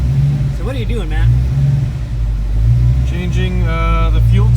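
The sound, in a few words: 1988 Ford Mustang 331 stroker EFI engine running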